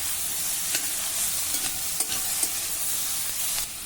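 Onion, garlic and capsicum sautéed with whole spices such as black pepper, cardamom and cinnamon, a constant bright sizzle with light scrapes and taps of a spatula at irregular intervals, close and alone.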